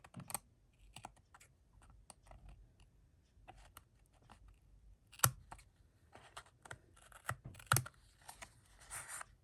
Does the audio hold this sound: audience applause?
no